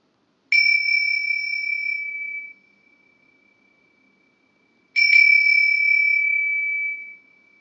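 Two electronic exam bell tones during a recorded English progression test, each a steady ringing beep of about two seconds separated by a few seconds of silence, clear and alone with no talk.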